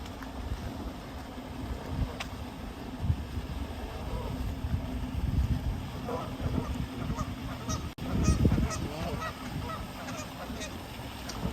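Geese and ducks honking repeatedly near a neighborhood pond, a run of loud, irregular calls from nearby over outdoor background noise, with a brief burst of wind or handling noise partway through.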